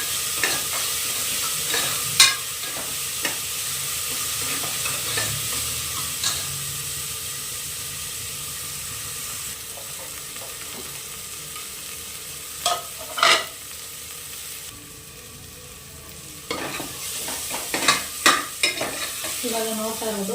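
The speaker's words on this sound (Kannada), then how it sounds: "ಇವಾಗ ನಾನು ಇದಕ್ಕೆ ಟೊಮೆಟೊ ಹಾಕೊಳ್ತಾ ಇದ್ದೀನಿ. ಟೊಮೆಟೊ ಕೂಡ ನೀಟಾಗಿ ಫ್ರೈ ಆಗಬೇಕು." Tomatoes frying in a pan for a trotters soup base, a continuous close sizzle broken by repeated spoon-stirring scrapes and clacks, with a brief quieter dip midway before the sizzle and stirring pick up again.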